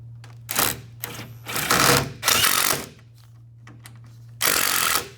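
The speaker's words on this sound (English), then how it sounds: "I'm gonna screw through the top one, just in the middle" Power driver sinking a 1-inch screw into the top track of a folding door: several loud whirring bursts of varying length over a steady low hum, separated by short quiet gaps.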